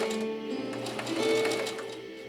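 A Singer Heavy-Duty 4423 sewing machine runs steadily while stitching a wide arrowhead stitch, its needle mechanism whirring and clicking rhythmically up close for a couple of seconds without any talk.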